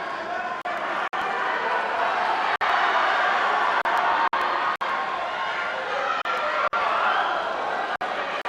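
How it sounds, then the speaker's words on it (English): A crowd at a youth Olympic judo event in Tbilisi cheers and roars steadily for Lasha Dudashvili, a loud, continuous wash of noise broken by a few sharp clicks. "You can hear the crowd cheering for Lasha Dudashvili."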